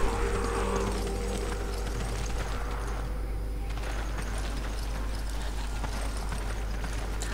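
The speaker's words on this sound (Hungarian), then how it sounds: "Kecske." Hooves clop and trot across a game scene in Resident Evil 5, under a steady bed of ambient noise with no voices, continuing through the whole stretch at moderate loudness.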